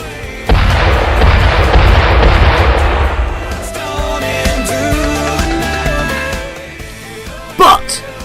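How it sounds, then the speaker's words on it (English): A regatta start gun fires with a loud, close boom that rolls into a long rumbling wash lasting a few seconds, followed by a sharp crack near the end, with a voice speaking over the sound. "our intrepid racers are always there for the start gun"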